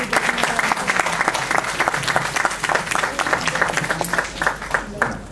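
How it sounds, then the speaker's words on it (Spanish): An audience at an obstetric emergencies workshop gives dense, sustained applause, many hands clapping steadily at a moderate distance for several seconds. "Un aplauso para la doctora."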